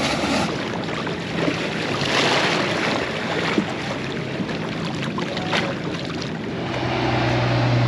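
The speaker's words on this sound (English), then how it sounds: "got the sound of the waves lapping on the shore" Waves lapping on a lake shore at an Austrian campsite, a continuous watery wash with soft breaking splashes rising and falling, fairly close and moderately loud, no voices.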